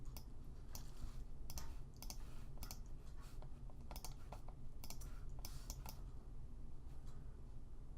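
Computer clicks in 3D modeling software come as faint, quick bursts of tapping and clicking in irregular clusters, spread over a quiet background hum.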